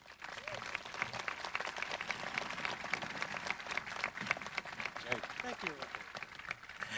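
Graduation audience at a high school ceremony applauding steadily for a speaker, a dense, even wash of clapping from a large crowd that continues throughout with faint voices mixed in.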